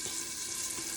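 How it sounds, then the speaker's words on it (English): Chicken fries in a covered pot with a steady close sizzle, a continuous bright crackling hiss with faint pops throughout and no talking. "I want you guys to see what is happening while it's frying"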